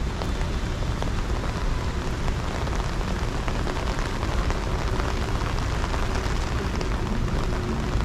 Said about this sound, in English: The rain is getting stronger